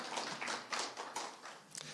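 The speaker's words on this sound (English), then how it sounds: "I was hoping I'd get an applause for something there" Scattered applause from an audience at a talk on libraries: a handful of uneven claps, moderately close, rising and fading over two seconds with no speech.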